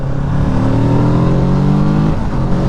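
A 2022 Kawasaki Z650RS motorcycle accelerates hard, its engine note climbing steadily in pitch for about two seconds before dropping as it shifts gear, loud and close with wind rushing underneath.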